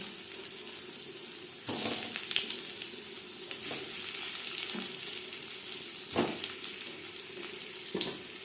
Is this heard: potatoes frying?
yes